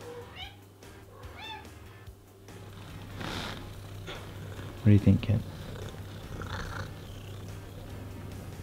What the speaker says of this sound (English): Oh yeah, and they have a cat.